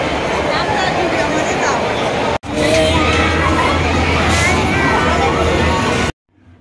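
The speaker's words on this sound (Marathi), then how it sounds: "गर्दी किती आहे" A dense Independence Day crowd bustles through the decorated Metro Junction mall, a loud, constant hubbub of many voices and shouting children, briefly cut once and then ending abruptly.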